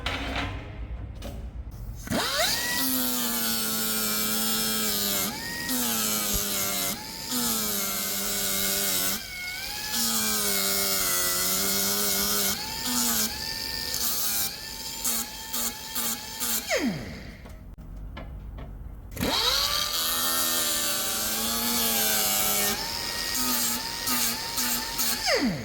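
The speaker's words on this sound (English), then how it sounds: "I'm just going to grind a mil off each side." A power grinder takes about a millimetre off a metal engine cover part on a Franna crane, its whine rising and falling in long passes with short pauses between them, loud and close.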